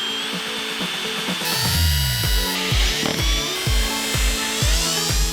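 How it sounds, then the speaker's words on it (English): A power drill whirs in short repeated bursts, revving up and down as it bites into a Toyota Supra's deck lid, close and loud with no voices. "that's where we're going to drill into your brand new Supra"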